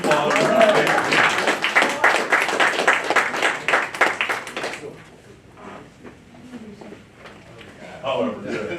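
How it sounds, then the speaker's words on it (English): An audience applauds to welcome Jason Nichols, a film director, at a documentary panel discussion. Dense, steady clapping fills the first five seconds, then it thins to scattered claps and murmuring. "Give Jason a round of applause"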